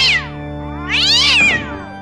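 A killer-cat plush in a comedy parody trailer lets out two loud, close meows, a short one followed by a longer drawn-out cry, with no one speaking.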